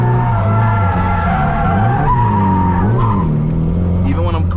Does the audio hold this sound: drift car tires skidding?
yes